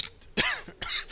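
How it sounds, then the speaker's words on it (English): Two close, harsh coughs with a brief pause between them, loud and near. "I have a condition where I cough out my lung every minute"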